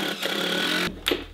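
Power drill driving screws into a wooden platform of a DIY garage-gym belt squat rig, a close whirring buzz for nearly a second followed by a brief second burst.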